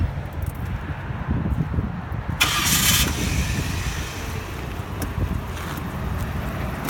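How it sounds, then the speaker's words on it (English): A 2006 Lincoln Town Car engine cranking and catching after a Viper 5305V remote start, a brief burst of starter whir then a steady idle, heard outdoors against light wind. "The parking lights will flash, and then the engine will crank a few seconds later."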